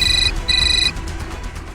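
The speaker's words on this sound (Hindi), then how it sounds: "फिर मैंने वेदिका के फोन से दुष्यंत को फोन किया।" A phone rings through a call in a tense crime drama scene: two bursts of an electronic ringtone, loud and close, then a quieter stretch with no speech.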